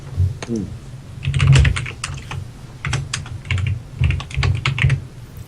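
Rapid typing on a computer keyboard, clicking in uneven bursts of close, crisp keystrokes with short pauses between runs, loud and alone with no speech.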